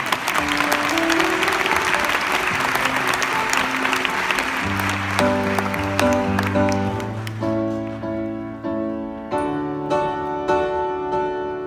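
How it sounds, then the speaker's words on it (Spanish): An audience applauds steadily at a live performance, the dense clapping gradually thinning and fading as piano and musical notes come in and take over. "dame un aplauso, por favor"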